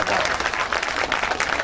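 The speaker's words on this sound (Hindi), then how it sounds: "यहाँ के कुछ लोग तालियां बजा रहे हैं, यहाँ एक दो पंक्तियां तालियां बजा रही हैं" Audience in an officers' club hall applauding during a speech, a dense steady patter of many hands clapping at close range.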